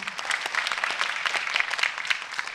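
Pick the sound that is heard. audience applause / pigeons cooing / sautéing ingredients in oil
audience applause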